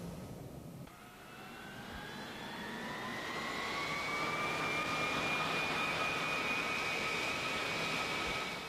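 A fixed-wing aircraft taking off from runway 18 left, its jet engines swelling from a brief lull into a loud, sustained roar with a rising whine that holds steady close by, no voices present.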